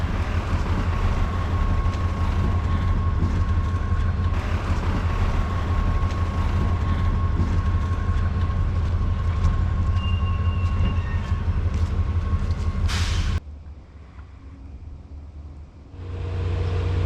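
Riding in the last car of the Texas State Railroad train, a loud, steady rumble of wheels on rails with a sustained tone fills the space, then cuts abruptly quieter near the end.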